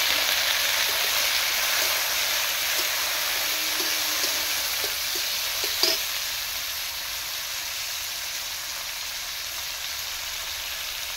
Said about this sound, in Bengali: পেঁয়াজ আর রসুনটাকে ভেজে নিয়েছি, এর সঙ্গে আমি টমেটোগুলো দিয়ে দিচ্ছি